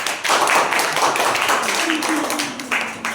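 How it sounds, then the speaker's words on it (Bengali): An audience claps steadily and fairly loudly in a hall, the applause holding for a few seconds with a few louder bursts. "তার জন্য একটা জোরে করতালি হয়ে যাক"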